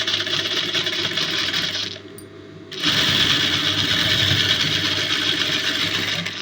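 A sewing machine stitching the lining of a blouse at the shoulder runs as a steady, close mechanical whir, stops briefly for under a second, then runs on continuously.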